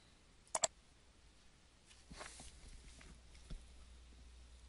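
A computer mouse clicks twice in quick succession near the start, crisp and close, followed by quieter faint clicks and light handling noise in an otherwise quiet room.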